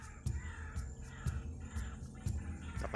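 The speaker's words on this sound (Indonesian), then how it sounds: "Ini banyak sekali burung puruwak di sini ya." Loud, harsh bird calls in a banana plantation amid scrubland, a repeated rhythm of short cawing bursts about every half second, close and dominant over a low background rumble.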